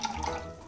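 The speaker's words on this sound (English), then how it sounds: "I'm gonna add a little bit of water because I'm gonna dilute the vinegar" Water splashes briefly into a bowl of venison jerky marinade of soy sauce and vinegar, a short, soft pour heard alone.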